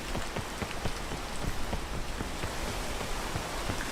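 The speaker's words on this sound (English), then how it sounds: "How slick it is when you climb in the rain." Heavy rain hisses steadily while a character climbs in the game Peak, with dense droplets pattering on surfaces at close range and an even, unbroken wash of sound. Nobody talks.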